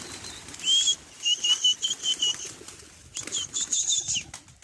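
Two bursts of pigeons taking off, with fluttering wingbeats and high, thin whistling tones rising over a quiet outdoor background.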